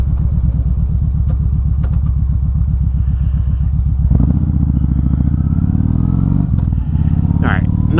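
A motorcycle engine idles at a red light with a steady, close, loud low throb, then the revs rise around halfway as it pulls away, the rumble growing deeper and stronger.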